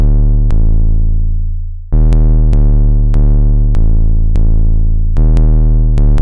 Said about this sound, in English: So this is what the 808 sounds like.